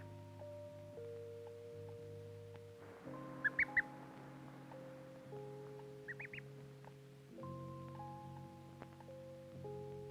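A real duckling in an old 16mm imprinting study film gives a few short high quacks and peeps, brief bursts over a steady droning film soundtrack tone.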